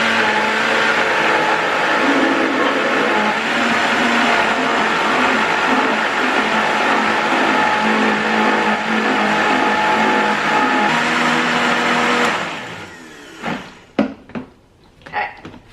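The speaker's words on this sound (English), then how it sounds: "I have my jars washed and my pumpkin here in the blender" A blender purees cooked pumpkin for canning, roaring loud and steady for about twelve seconds before it shuts off. A few knocks and clatters follow as it winds down.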